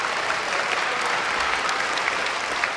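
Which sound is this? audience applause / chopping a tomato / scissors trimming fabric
audience applause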